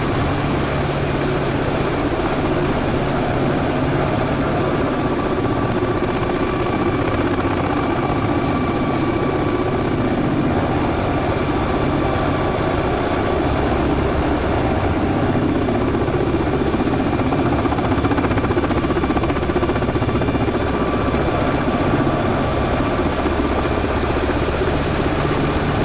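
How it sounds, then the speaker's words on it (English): A Black Hawk helicopter hovering in the X-Plane 11 flight simulator gives a steady, loud engine and rotor drone with a low thrum, holding constant throughout with no talk. "Blackhawk actually hovers pretty well"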